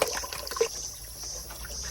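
Cold water from a public spring spout splashing and pouring steadily during a hurried outdoor bath, a continuous close trickling rush with small splashes and no talk.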